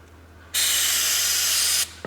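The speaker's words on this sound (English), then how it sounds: "if I spray that a little bit" A steady aerosol spray hisses loudly for about a second and a half onto a worn-out boot being repaired, then cuts off abruptly, with a small clatter just after.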